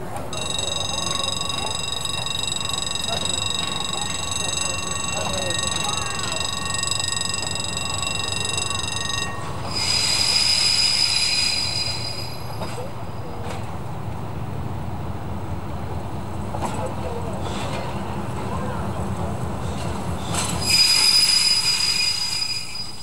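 A Picasso X-3800 railcar on a tourist railway's secondary line in the Aa valley, rolling in with a steady engine drone, rail noise, and shrill wheel squeals in two bursts; someone narrates over it.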